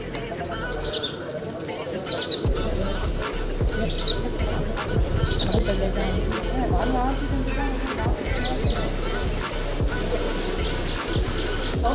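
Many pigeons coo and flutter at a temple in Bikaner, repeated low coos and wing flaps layered with chirps, under a person talking nearby.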